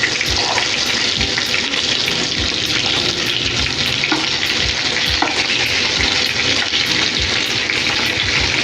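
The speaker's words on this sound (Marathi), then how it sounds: "मस्त असे गावरान पद्धतीने वांग्याची भाजी करते मी जरा वर खाली करू आपण" Eggplant curry cooked gavran style sizzles in a pan while a spoon stirs it, giving steady loud frying hiss with regular scraping strokes and clinks against the pan, close up and with no talk.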